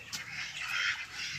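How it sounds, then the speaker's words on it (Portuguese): Ducks on a small farm, calling steadily in a dense, continuous chatter of bird voices, nearby and fairly loud, with no talking. "Aí ó, os patos."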